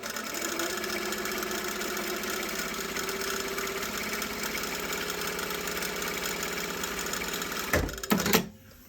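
A sewing machine runs a long, steady line of basting gathering stitches, its motor humming evenly and closely for several seconds before a few quick clunks as it stops; no one speaks.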